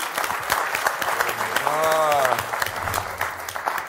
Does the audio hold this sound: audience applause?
yes